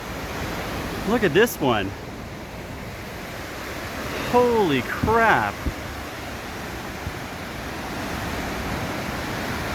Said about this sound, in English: I can't even imagine how much water is flowing there.